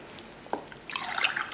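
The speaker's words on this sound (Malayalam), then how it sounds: "ഞാനിപ്പോ വെള്ളം ഒഴിച്ച് നോക്കട്ടെ" Water poured into a pot of jackfruit erissery, with a soft drip and then a brief, splashy trickle that rises and falls, fairly faint and with no talk.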